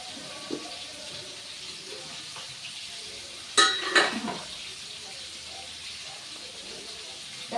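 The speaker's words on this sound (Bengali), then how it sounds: "তেলটা গরম হয়ে গেছে, এর মধ্যে আমি পাঁচফোড়ন দিয়ে দিচ্ছি।" Low, steady sizzle of hot oil in a frying pan, then a sudden louder crackling burst as panch phoron (Bengali five-spice) drops in, settling back to a gentle fry.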